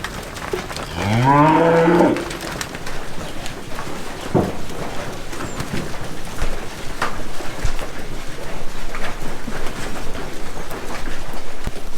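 A cow on a farm pasture lets out one loud, drawn-out moo near the start. Fainter lowing and rustling farm ambience continue under it for the rest of the clip.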